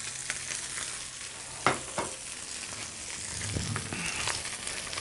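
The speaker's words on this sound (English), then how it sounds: "we just leave that just cooking that way in the pan, and it's just going to get nice and golden and crisp on the outside" Fish sizzles steadily in a hot pan, a soft continuous frying hiss with a few small pops and clinks, fairly quiet and close, with no talking.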